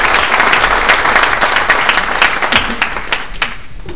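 Audience applause at a faith-in-the-city conference session, welcoming a speaker: steady dense clapping throughout, loud and close, with a few sharper claps standing out near the end.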